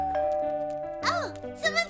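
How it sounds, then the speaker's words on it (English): A doorbell rings a two-tone ding-dong, followed by another chime, close and clear against a musical background in a children's cartoon. "The doorbell."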